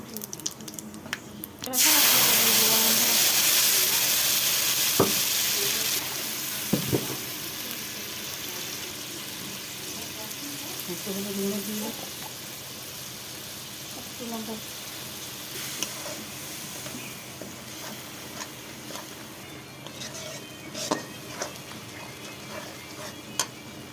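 Tuna fish and spice masala sautéing in a pan, opening with a loud burst of spitting sizzle that settles into steady low frying with occasional stirring clinks and scrapes, close up.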